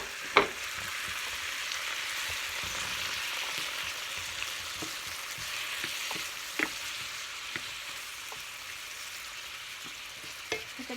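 Tomatoes and onion frying in a pan, a steady broadband sizzle held throughout, with a few sharp clicks and taps of a spoon or spatula scattered over it.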